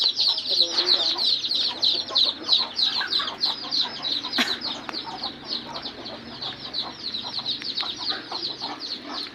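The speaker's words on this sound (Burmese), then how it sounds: "ဒီမှာကြက်တွေအမဲလေးတွေပေါက်ထားတယ်" Chickens on a farm clucking steadily and close by, a busy flock with repeated short calls layered over one another, with no talk.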